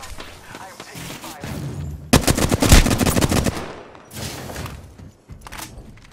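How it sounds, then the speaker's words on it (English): Rapid bursts of automatic gunfire in a first-person shooter game, loud and close, with a dense volley in the middle of the stretch and lighter shots on either side, mixed with other game sounds. "Getting shot at! Marking us out. I'm taking fire."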